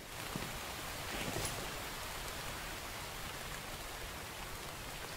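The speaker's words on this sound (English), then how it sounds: "unfortunately it started raining" Steady rain falls in the survival video game The Infected, a dense, even hiss of drops throughout with no other sounds.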